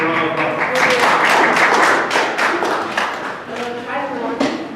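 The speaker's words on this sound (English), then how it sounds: "Give a round of applause." An audience at a public speaking and debating event gives a round of applause, a dense burst of clapping that fills several seconds and gradually thins, with a voice talking over it.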